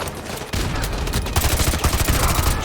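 Dense, continuous gunfire from Call of Duty Modern Warfare 2 Remastered, with rapid overlapping shots and bursts rolling through a loud firefight for the whole stretch, no talking.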